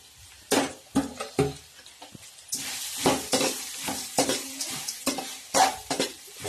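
Small raw mango pieces sautéing in a pan make a soft sizzle under frequent close scraping and stirring strokes of a spatula, loud in irregular bursts, with no voices.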